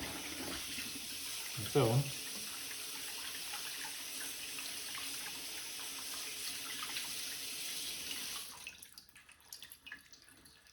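Tap water runs steadily into a sink while horseneck clams are rinsed, a soft continuous splashing with a brief short voice near the start, ending as the flow is shut off.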